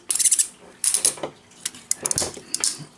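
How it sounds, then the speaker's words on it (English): A toy robot figure's ratcheting hip and knee joints are flexed, giving rapid bursts of sharp, close plastic clicks in several quick clusters separated by brief pauses. "It's here now, ratcheting hips, ratcheting knees, and ball jointed feet."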